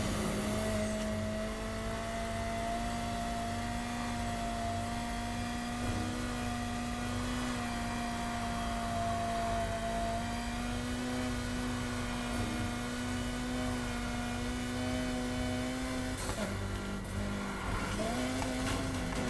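A 2006 Lotus Exige S races in Need for Speed Heat, its engine holding a loud, steady drone with small pitch shifts and a drop and climb near the end, continuous and close throughout.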